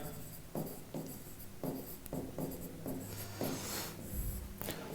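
Pen scratching on paper as chemistry notes are written in a classroom lesson, short strokes and taps in an uneven rhythm, close and fairly quiet with no talking.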